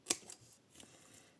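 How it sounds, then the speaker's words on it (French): A single sharp snip of scissors cutting paper tabs at an angle, close and crisp, followed by a few faint rustles and small cuts in a quiet room. "vous venez couper en biseau les languettes"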